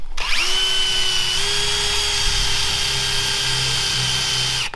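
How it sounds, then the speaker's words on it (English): A power drill with a very blunt bit whines steadily and loudly for several seconds, its pitch holding nearly constant with a slight rise early on, with no talking. "with the world's bluntest drill bit, Thomas."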